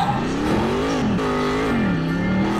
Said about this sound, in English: We're driving around in our reindeer car.